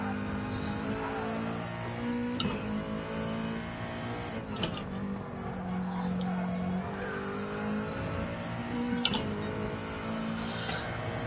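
A race car at Spa in Gran Turismo Sport drones with a steady engine note that rises and falls through gear changes, with brief tyre squeals, heard close and continuous.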